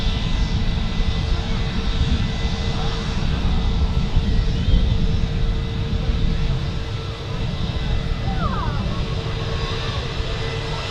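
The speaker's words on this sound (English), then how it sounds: "These do taxi very slowly and quietly, the A320s do." An Airbus A320 airliner taxiing slowly at Manchester Airport, with a low, steady engine rumble and broadband roar held at a fairly even level and no voices.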